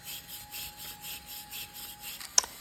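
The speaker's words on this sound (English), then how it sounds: "I used brushes to clean the mortar" Hand brushes scrub the mortar joints of a stone fireplace in quick, even back-and-forth strokes, a soft close scratching rhythm ending in a sharp little knock.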